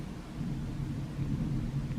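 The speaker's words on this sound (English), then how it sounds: "Oh, thunder's coming." Deep thunder rumbles steadily through a thunderstorm, a continuous low roll that swells slightly and never breaks, with no voices over it.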